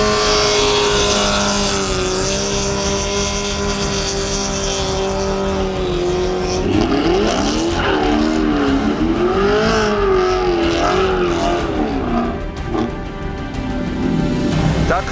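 A Chevrolet Camaro and a Mercedes E400 idle loudly at a standing-start drag race, their engines droning before revving hard and surging away in rising, wavering pitch sweeps.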